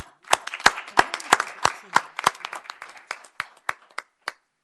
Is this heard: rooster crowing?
no